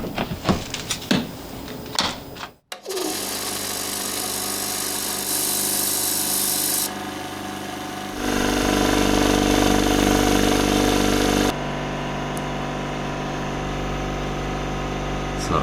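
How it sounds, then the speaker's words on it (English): A workshop air compressor starts up and runs on an off-grid inverter supply after some handling clatter, then keeps up a loud, steady mechanical drone with a rhythmic pulsing and shifts in level, no talking. "that compressor takes probably 4 or 5 kilowatt just to start up"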